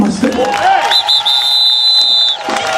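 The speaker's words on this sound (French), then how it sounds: "est-ce que je peux applaudir Chimason?" A crowd at a Mardi Gras parade in Basse-Terre cheers and applauds, a dense, loud wash of voices with a sustained high whistle cutting through it.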